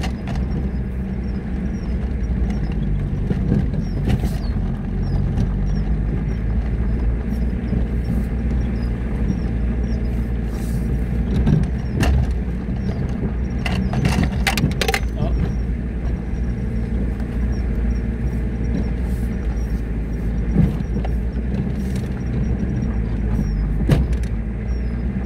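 Car engine laboring steadily as it climbs a grassy slope on the way up to Lac de Charpal, with the tires slipping on the grass; a continuous loud low rumble with occasional knocks, and a voice speaks now and then.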